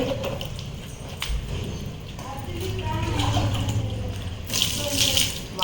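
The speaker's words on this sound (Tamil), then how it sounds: "நான் தண்ணி ஊற்றிடுறேன்" Water splashes and pours near a sink or tub while bathing a dog, people talking over it in Tamil, with a louder gush toward the end.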